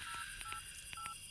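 A quick series of telephone keypad tones, about seven short beeps in an uneven rhythm, clear against a quiet background.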